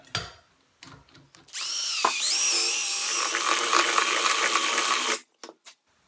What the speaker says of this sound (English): I'm going to take this paint mixer, put it in my cordless drill